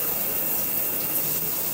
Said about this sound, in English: So first I'm spraying it with water, get some of the loose cobwebs and things off